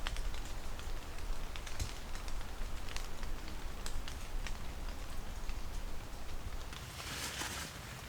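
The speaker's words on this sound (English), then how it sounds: "That rain really picked up." Steady, dense rain patters on a forest bushcraft camp with no break, growing a little heavier and hissier toward the end.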